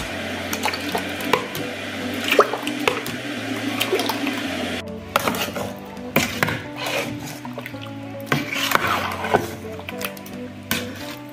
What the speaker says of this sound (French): Je vais mettre 200 ml d'eau tiède et comme ça nous fera en tout 1 litre d'eau.